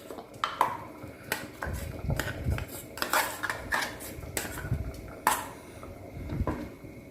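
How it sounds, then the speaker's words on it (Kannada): A metal utensil clinks and scrapes against a pot while masala spices go into a pot of taro-leaf roll and cucumber sambar. The taps come in irregular bursts, close and fairly crisp. "ಈಗ ಮಸಾಲೆ ಹಾಕ್ತೀವಿ."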